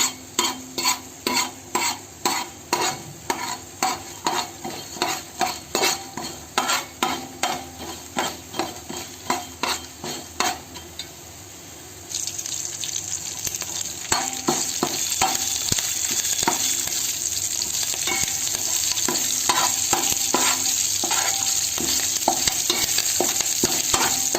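Ingredients for sesame powder are stirred and fried in a dry pan. Rhythmic scraping strokes repeat steadily for about ten seconds, then a louder continuous frying hiss takes over and keeps going under further stirring, with no voices.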